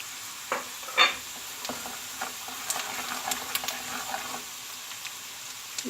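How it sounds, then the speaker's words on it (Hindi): Onions and spices frying in hot oil in a pan for potato bhurta, with a soft continuous sizzle and a few sharp spoon knocks early on as the mixture is stirred, close up. "प्याज ब्राउन हो गए हैं, इसमें सारे मसाले डाल दूंगी मैं।"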